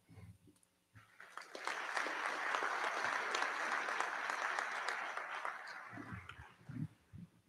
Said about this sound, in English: Thank you very much for the kind round of applause.